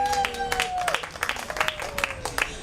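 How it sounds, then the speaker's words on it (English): An audience at a political panel at the fair breaks into applause, with scattered claps and crowd noise carrying under a voice and a sliding tone across the room. "give yourselves a big round of applause for that"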